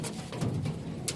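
Andhra Kalanka and Regder pigeons coo faintly and low in a quiet, brief moment. Soft rustling surrounds the calls, and there is no talk.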